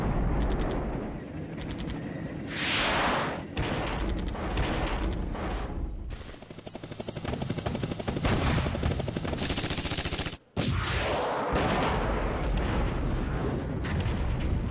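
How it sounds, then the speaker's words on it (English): Artillery bombardment in a war video game, a dense, continuous roar of rumbling blasts and crackling gunfire that runs unbroken for most of the stretch with only a brief drop near the end, loud and close. "He's bombing me there."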